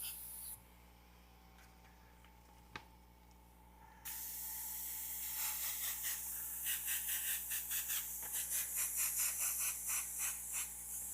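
An airbrush sprays purple paint in a steady hiss that starts after a short quiet stretch, then grows louder with a soft pulsing flutter as the spray continues, close by and with no talking.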